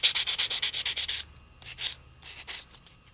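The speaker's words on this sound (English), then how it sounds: "Now your hands are gonna get dirty because you're sanding off metal." Sandpaper rubs back and forth over a metal piece for crafting, with a quick run of about nine rhythmic scrapes followed by a few slower, spaced strokes, close and clear with no talk.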